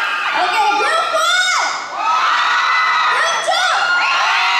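A crowd of fans at a live New York show shouts and cheers in loud, sustained bursts, with high children's screams and whoops rising and falling over the constant din.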